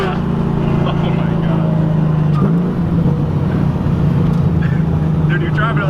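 A boosted, LS V8-swapped Mazda RX-7 driven hard at a Powercruise event drones loudly and continuously from inside the cabin, with excited voices talking over the engine.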